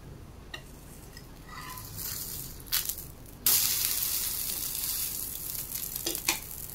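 Dosa batter cooking in oil on a pan: a soft hiss swells abruptly into a loud, bright, continuous sizzle that carries on steadily to the end, with a few faint clinks.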